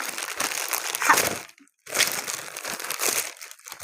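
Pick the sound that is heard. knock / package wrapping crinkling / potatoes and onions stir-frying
package wrapping crinkling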